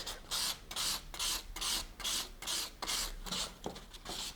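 Sandpaper rubs back and forth over a painted imitation-iron piece to take off its points, giving a close, rhythmic rasp of about nine even strokes.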